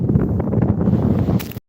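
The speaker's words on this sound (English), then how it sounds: "You can hear that wind there. Can anyone hear that wind? It's like Baltic. It's absolutely Baltic. It's such a cold wind." Cold wind gusts across an Irish mountainside, buffeting the microphone in loud, uneven rumbling blasts that cut off abruptly at the end.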